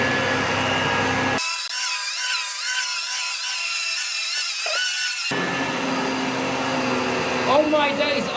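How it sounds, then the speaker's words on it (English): Dyson DC17 Absolute upright vacuum cleaner running on carpet, a loud steady motor whine with an abrupt pitch shift as the airflow changes partway through, then settling back, with brief rattling near the end. "I heard crunch going up the vacuum"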